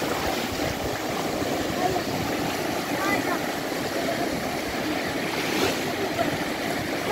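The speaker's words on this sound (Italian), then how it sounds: "siamo al mare!" Sea waves wash onto a beach in a steady, broad roar that runs unbroken, with a constant rush that may include wind noise.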